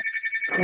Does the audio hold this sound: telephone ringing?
yes